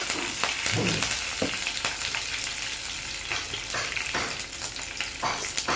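Curry leaves crackle and spit loudly in hot oil with dried red chilli pieces as tempering. Sharp pops burst over a constant sizzle, with no voices.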